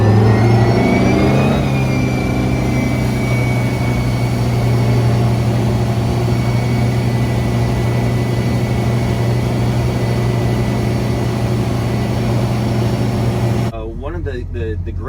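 A 2021 Supra SR surf boat pulls away, its engine revving up in the first seconds, then settles into a loud, steady drone with water and wind noise for the rest.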